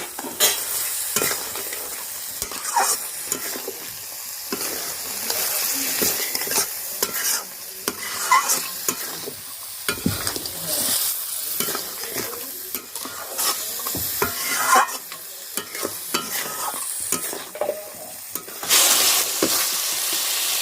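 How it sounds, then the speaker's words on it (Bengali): Fried crabs sauté with spices in a pan at a Sundarbans picnic, steady loud sizzling broken by frequent scraping stirs and clatters over about twenty seconds, with no speech. "এবারে ভেজে রাখা কাঁকড়াগুলো দিয়ে দিচ্ছি। দিয়ে মশলার সাথে ভালোভাবে কষিয়ে নেব।"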